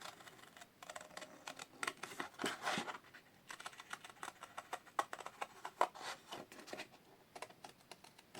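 Scissors snipping through paper while cutting out a round shape, quiet close crisp crunching snips in irregular bursts with rustling handling in between, no speech.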